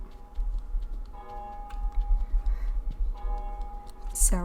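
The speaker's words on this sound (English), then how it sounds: "Sounds like some sort of clock tower bell is going on right now" A clock tower bell rings in Untitled Goose Game, sustained tonal chimes humming over a busy low game background, fading in and out, with a sharp bright hit near the end.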